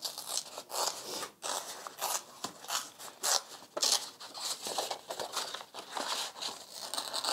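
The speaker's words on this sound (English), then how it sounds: "we can get some of that texture through tearing the paper rather than cutting it this time." Coloured paper is torn by hand for a collage, giving a continuous close rasp of ripping and rustling that swells and fades in uneven strokes, with brief pauses and no voices.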